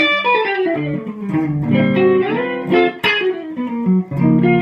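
A 1960 Gibson Les Paul electric guitar plays a melodic phrase on the clean neck pickup. Its sustained, bell-like notes ring out alone, close and fairly loud, with no talk over them.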